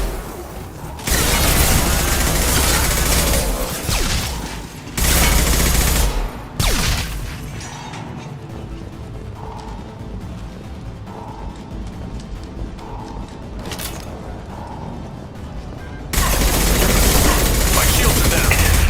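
Automatic gunfire bursts loudly in Mass Effect 2, with sustained fusillades at the start and end and sparser shots, impacts and mechanical clicks between them, under occasional game voices.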